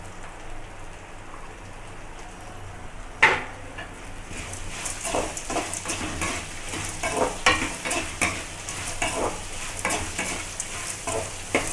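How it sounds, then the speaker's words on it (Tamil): Chopped onions hit a hot pan of roasted ragi semiya for upma and sizzle loudly, with a sharp clatter as they go in and then a steady crackling fry under repeated spatula stirring and scraping. "நல்லா பச்சை வாசனை போல ப்ரௌன் கலராக நமக்கு வரதுக்கு வதக்கிடுங்க."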